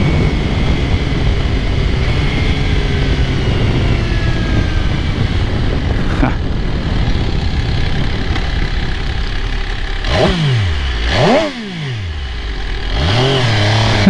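A 2022 MV Agusta F3 Rosso motorcycle engine, loud and steady, then quick downshifts near the end, each a sharp throttle blip that rises and falls in pitch in rapid succession.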